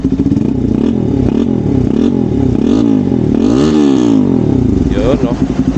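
RS200 motorcycle engine revving up close, rising and falling throttle blips in a rough repeating pattern, with a voice talking over it.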